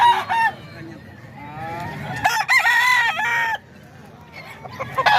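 A tall rooster about eight months old, offered for sale, crows loudly and close by with a long wavering call, followed by shorter crowing bursts over background chatter and farm noise.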